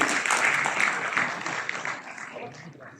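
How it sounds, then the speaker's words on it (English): Applause for award winners at an agricultural science conference, a crowd clapping steadily from a middle distance and slowly fading over a few seconds, with faint voices underneath. "Please give a big round of applause to all the awardees."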